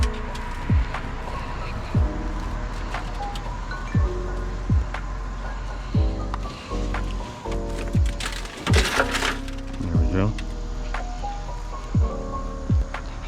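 Broken tempered glass from the rear door of a 2016 Honda Civic being pulled out, with scattered sharp cracks, crunches and tinkling fragments throughout, close and fairly loud over a steady low rumble.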